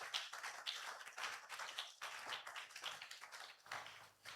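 A church congregation claps and applauds during a Sunday worship service, a steady quiet patter of many hands over several seconds with no voices.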